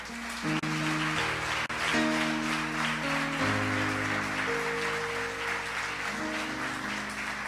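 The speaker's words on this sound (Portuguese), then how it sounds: "Pode aplaudir o Senhor Jesus." Congregation applauding in a church service, steady sustained clapping across the whole stretch with organ or keyboard tones held underneath.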